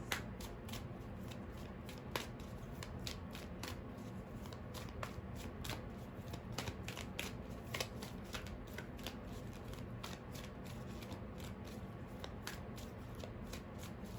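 Cards from an Earth Magic Oracle deck are shuffled again and again, giving quiet, close riffles and soft slaps in a steady, repeating rhythm, with no one talking.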